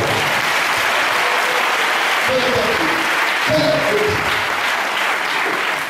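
A church congregation at an Easter Sunday service applauds in a steady, dense wash of clapping that fills the whole stretch at an even loudness, with a few voices faintly underneath.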